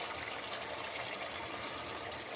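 Flour-and-water slurry for chicken kunna poured into a cooking pot: a steady, close liquid rush with a gurgling trickle, continuous and fairly loud throughout, no voices.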